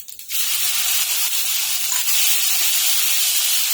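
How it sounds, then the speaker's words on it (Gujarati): Cumin, ajwain and ginger-garlic-chili paste hit hot oil for okra kadhi, letting out a loud, steady sizzling hiss that starts abruptly and stays strong throughout, with no talking. "હવે થોડું જીરું એડ કરીશું અને થોડો અજમો એડ કરીશું અને આદુ લસણ મરચાંની પેસ્ટ એડ કરીશું"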